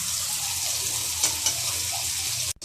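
Chopped onions fry with cumin and coriander powder in a pan, giving a steady broadband sizzle that runs evenly and close throughout, with a couple of faint stirring touches and a brief break right at the end.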